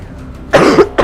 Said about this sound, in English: I have been a coughing fit.